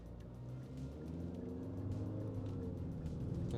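Low, steady engine and road hum from a 2025 Infiniti QX60 VC Turbo under way, faint and rising slightly in level, with no talk over it.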